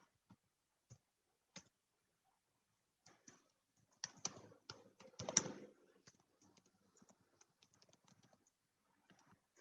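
Java code is typed on a computer keyboard in a quiet room: a few isolated key clicks, then a quick burst of close, light tapping that tapers back to sparse keystrokes.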